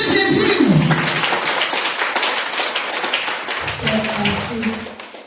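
Church congregation clapping to acclaim Jesus, a dense patter of many hands throughout, mixed with voices speaking over it.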